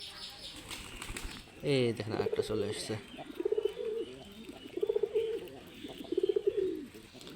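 Close pigeons burst into loud wing flaps and then coo in repeated soft, rolling calls, while someone speaks briefly over them.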